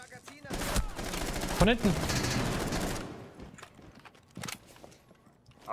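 Gunfire in the Rainbow Six video game, a loud close burst of rapid shots followed by scattered footsteps and thuds, with players talking in German over the action.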